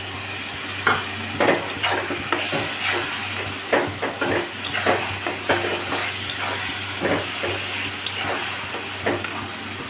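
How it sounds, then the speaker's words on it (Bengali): Garlic paste sizzling in hot oil for a mutton curry: a steady close frying hiss broken by repeated stirring scrapes, with no talk. "এর মধ্যে দেব রসুন বাটাটা তেলের মধ্যে দিয়ে দিলাম"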